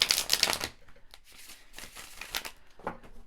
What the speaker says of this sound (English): Just a couple of shuffles